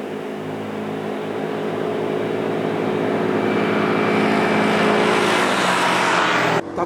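A Honda ADV160 scooter engine drones steadily while climbing a mountain road, its pitch and loudness gradually rising under heavy wind rush, close and continuous with no voices.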